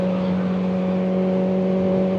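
A Kawasaki 4RR motorcycle with a Graves exhaust gives a steady, loud engine drone with a strong tonal hum, held constant throughout on a chilly day, with no talk.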